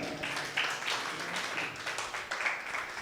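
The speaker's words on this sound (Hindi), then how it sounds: "एक बार जोरदार ताली।" A church congregation applauds during a Sunday service, giving steady, soft clapping that sounds somewhat distant and continues without a break.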